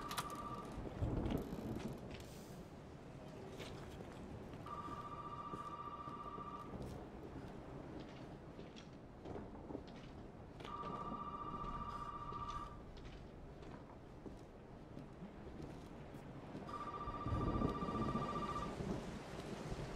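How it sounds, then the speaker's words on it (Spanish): Telephone ringing in the video game Resident Evil 7, three evenly spaced electronic ring bursts over a steady backdrop of rain and storm rumble. "Están llamando por teléfono."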